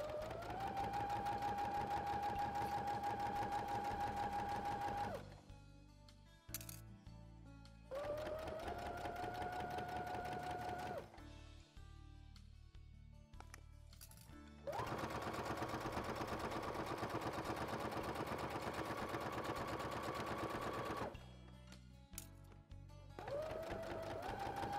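A sewing machine stitches a travel toiletry bag in long steady runs of rapid mechanical clatter, broken by brief pauses and restarts, heard close with no talking.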